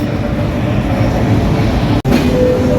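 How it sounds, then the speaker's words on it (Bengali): The Banglabandha Express stands at a station in Rajshahi, giving off a loud, steady rumble of rail cars and machinery. The noise holds without a break, apart from one sharp momentary dropout, and no voices are heard. "এই যে বাংলাবান্ধা এক্সপ্রেস"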